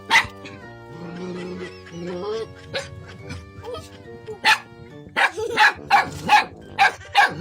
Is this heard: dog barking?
yes